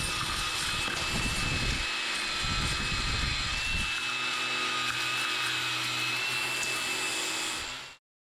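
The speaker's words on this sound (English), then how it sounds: "Got my Bauer 20 volt grinder here with the super crappy grinding discs that I hate" A Bauer 20 volt cordless grinder fitted with cheap JobSmart grinding discs whines steadily at close range, cleaning slag off a weld, with bursts of rough low grinding contact in the first few seconds before it runs on evenly.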